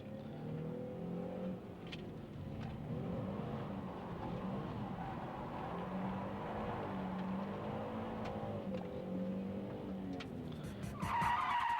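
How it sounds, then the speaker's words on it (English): Car tyres squeal and skid through a braking drift into a corner, a steady, faint screech that holds for several seconds with no talk over it. "So this is a braking drift."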